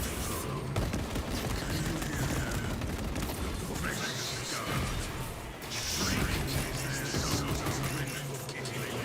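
Turret gunfire crackles in a dense, continuous barrage within a chaotic video game firefight, constant and loud, with clashing impacts and a voice talking over the action.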